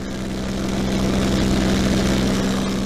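Steady, loud drone of a P-51C Mustang's propeller and piston engine in flight, filling the whole stretch with no break and no talk.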